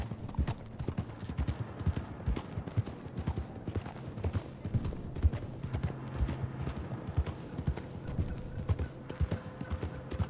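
Steady clip-clop of a horse's hooves while riding in Red Dead Redemption 2, with a rapid, even rhythm of close, moderately loud hoofbeats and a brief whinny-like tone partway through.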